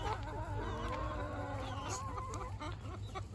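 Backyard chickens clucking close by, several soft warbling clucks and murmurs overlapping over a low steady hum, fairly quiet.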